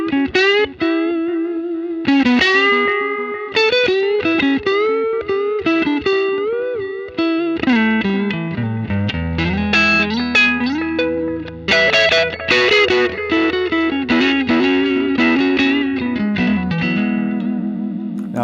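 Electric guitar played through an Xotic Effects RC Booster pedal gives a loud, close lead line of sustained notes and bends with mild distortion and a touch of reverb, with no talking.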